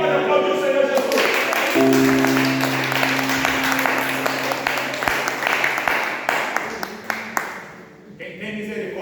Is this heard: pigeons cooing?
no